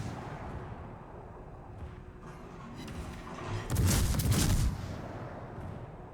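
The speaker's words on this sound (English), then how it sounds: "He's trying to shoot the bow area to get that third fire." Naval ship guns firing in the World of Warships naval combat game, a low rumbling volley swelling to a loud burst of booming blasts midway, then fading back to a steady background rumble.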